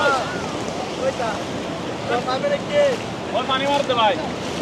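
Sea waves wash onto the sandy shore of Kuakata beach with a steady roar under gusty wind, while people talk nearby over the surf.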